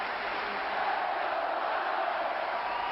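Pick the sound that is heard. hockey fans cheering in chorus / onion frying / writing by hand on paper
hockey fans cheering in chorus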